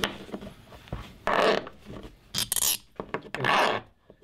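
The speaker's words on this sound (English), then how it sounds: "you can hear the file biting into the material" A hand file rasps across a piece of heat-treated, tempered O1 tool steel in a machine shop: close, harsh scraping strokes in bursts of about a second, separated by short pauses.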